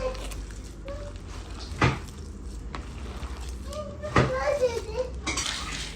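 Food being mixed by hand in a metal pot while cooking kabab, soft scraping and occasional sharp clinks of utensils against metal, with someone talking and a voice in the background.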